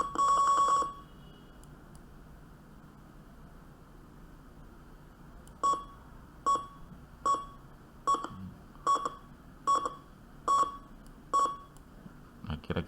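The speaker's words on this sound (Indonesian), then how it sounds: "Sini bisa dilihat tone-nya itu atau buzzernya mengeluarkan sinyal." Short electronic buzzer beeps from an HC-SR04 ultrasonic parking sensor simulation: one long tone, a pause, then eight or so evenly spaced clear beeps, close and alone.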